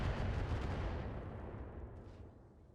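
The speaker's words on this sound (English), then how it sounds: "Oh, there goes all the rockets." A volley of rockets firing in modded BattleTech, a dense, rumbling roar of launches that starts loud and gradually fades over a few seconds.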